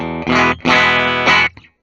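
A Gibson Billie Joe Armstrong electric guitar with volumes and tones at 10 plays three loud, bright, distorted chords in quick succession, each ringing briefly before cutting off.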